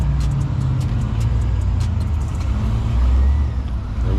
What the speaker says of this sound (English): Big boy Hellcat pulled up